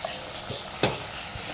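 Vegetable biryani with biryani masala and turmeric stirred in a pan: a brief, steady frying hiss with one sharp scrape of the spoon midway, close up and without speech.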